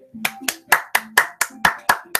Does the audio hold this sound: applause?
yes